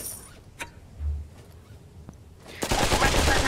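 A mini AK rifle fires in the Pavlov VR shooter: a couple of sharp isolated shots, then a loud, rapid automatic burst near the end, heard close.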